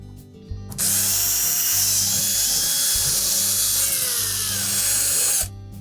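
Power screwdriver spinning number 2 Phillips screws out of the back panel of a Whirlpool range, a steady loud whirring drone lasting about five seconds after a brief start, close up and without talk.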